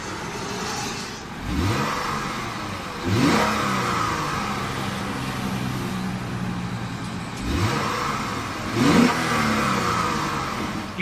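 A 2013 Lexus GS350 F-Sport revs up through its tuned exhaust in several rising bursts, each swelling loudly and falling back to a steady engine drone, heard close with no talk.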